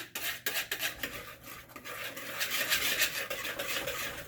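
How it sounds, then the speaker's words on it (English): Cake batter for a melting chocolate cake being whisked in a bowl, a close rhythmic scraping and rubbing of the whisk against the bowl that builds into a fast continuous swish. "all right, it's all whisked"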